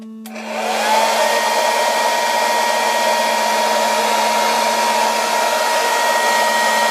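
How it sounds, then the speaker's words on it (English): A steady, loud rush of cold air blown onto a Eurorack 901 oscillator module starts abruptly and holds constant, with a faint electronic tone humming underneath. "what I'm going to do is blow air onto the front of this."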